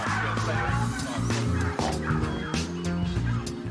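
Bronze turkeys on a farm gobbling and clucking in a busy, overlapping chorus, close and continuous, with repeated bursts of calls and no talking.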